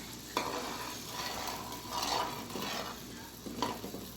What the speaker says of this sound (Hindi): फिर इनको फ्राई करते हैं।